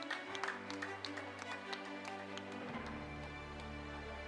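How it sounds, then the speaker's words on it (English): An audience at a college graduation ceremony claps for a graduate, a brief patter of scattered hand claps over a low hall hum. "Give her a round of applause"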